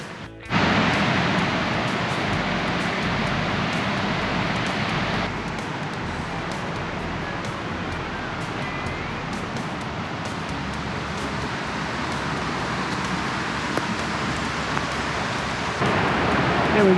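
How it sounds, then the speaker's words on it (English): Zilly Falls, a rainforest waterfall in Far North Queensland, gives off a steady, dense rushing roar that stays loud and unbroken throughout, with no voices over it. "There we go, Zilly Waterfall."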